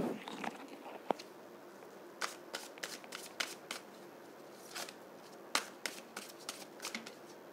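Tarot cards being shuffled by hand, a quiet series of crisp papery riffles and snaps in uneven bursts, close and alone.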